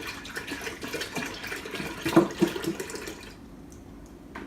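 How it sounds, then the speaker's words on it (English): Milk pours steadily into a large pot with a soft, continuous splashing. It swells briefly in the middle, then tapers off toward the end. "You just pour that into a large pot."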